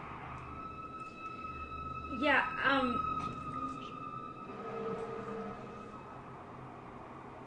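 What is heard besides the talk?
emergency vehicle sirens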